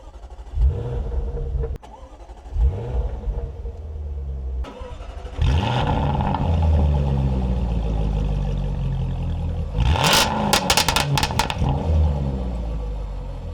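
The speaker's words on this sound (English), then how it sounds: "That crackle on startup never gets old." A Jaguar F-Type SVR engine cranks and fires up loudly, settling into a rumbling idle, then revs sharply with a burst of crackles and pops near the end.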